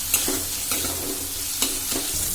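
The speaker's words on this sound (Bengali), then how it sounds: "আমি মশলাটাকে আবারও ভালোভাবে একটু নেড়ে চেড়ে ভেজে নিচ্ছি" Spice masala of turmeric and chilli powder stirred and fried in a pan for a soybean curry, a steady sizzle broken by a few distinct scraping strokes of the spoon, close by with no talking.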